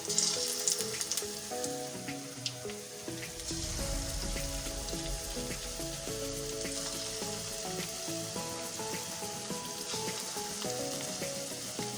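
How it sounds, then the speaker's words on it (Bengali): Pumpkin fritters fry in hot oil in a wok, a continuous crackling sizzle that holds steady throughout, with a gentle musical tune playing underneath and no voices. "একে একে সবগুলো দিয়ে ভালোভাবে ভেজে নিতে হবে"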